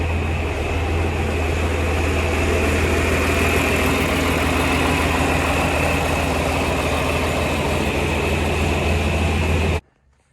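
An old tractor engine idles steadily and loudly close by outdoors, a constant low throbbing drone that cuts off suddenly at the end.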